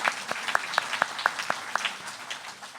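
A small audience at a Stratford talk claps with distinct, fairly sparse individual claps close by at first, then thins and fades out over a few seconds.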